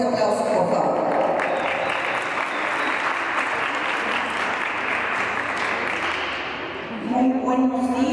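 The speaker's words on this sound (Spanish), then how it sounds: "para quien pedimos un fuerte aplauso, por favor." Sustained applause from a large crowd at a secondary school inter-school sports games opening ceremony, steady and loud for about seven seconds before fading as an announcer's voice returns.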